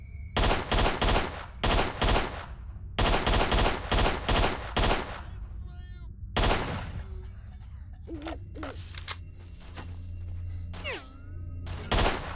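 Loud, close bursts of automatic gunfire from a weapon in the video game S.T.A.L.K.E.R.: Shadow of Chernobyl, several rapid volleys in the first half, then scattered shots and game sounds after a pause.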